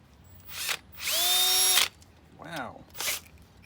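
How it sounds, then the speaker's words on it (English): An electric drill bores into metal on a caravan under restoration, with several short bursts of whining motor, one sustained spin rising in pitch, and a faint voice heard between them. "Might need an electric drill for this, we'll see."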